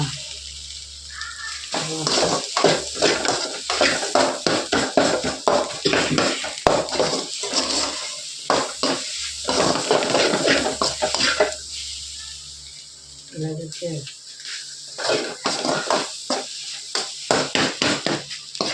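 A spatula scrapes and clatters against a pan while egg fried rice is stirred, in quick repeated metallic strokes over a faint sizzle, with a brief pause before the stirring resumes.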